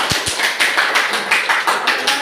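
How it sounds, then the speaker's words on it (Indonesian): A classroom audience claps for a presenting group, with a couple of sharp taps at the start and then a run of rhythmic, fairly loud applause. "Kita beri aplaus dulu untuk kelompok"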